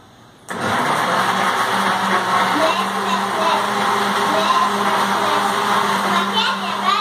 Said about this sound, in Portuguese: Agora vamos bater no liquidificador.